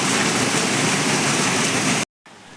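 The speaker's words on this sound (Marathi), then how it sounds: "किती जोरात पाऊस पडतोय बघा. भरपूर पाऊस आहे आमच्याकडे." Heavy rain pours down in a dense, constant roar, then cuts off abruptly near the end before a fainter patter resumes.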